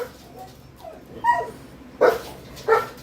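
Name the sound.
dog barking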